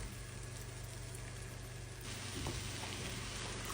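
Tomato paste sautés in a pan with a steady, faint frying sizzle that swells slightly partway through, with a few soft stirring scrapes.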